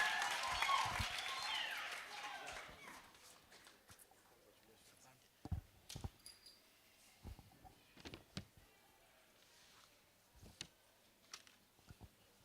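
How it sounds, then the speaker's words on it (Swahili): At the Shofco Sacco annual general meeting, an audience claps in a burst that fades after a few seconds, followed by scattered knocks and thumps. "Makofi tena ya nguvu bana"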